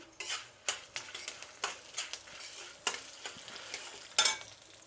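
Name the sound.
dried red chillies and curry leaves sizzling in oil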